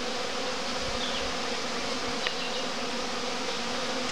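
Honeybees hum densely at a busy beehive set in a poplar, a steady, continuous swarm drone close by with no break and no talking.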